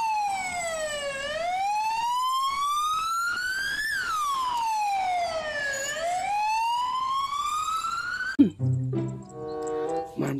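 A loud wailing Indonesian Red Cross (PMI) ambulance siren sweeping slowly up and down, close by, then cutting off into a burst of other noise.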